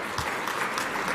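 An audience claps at a government event, a short burst of steady, close applause filling the whole moment with no voices over it.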